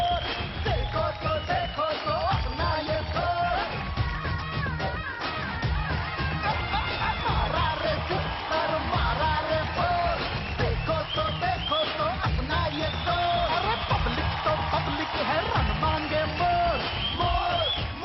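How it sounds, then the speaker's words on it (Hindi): A television talent-show audience applauds and cheers for Yuvraj Singh, with a dense, steady roar of clapping and whoops throughout, mixed with music. "जोरदार तालियां हो जाएं for the none other than Yuvraj Singh"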